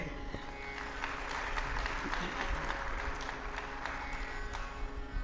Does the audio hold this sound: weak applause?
yes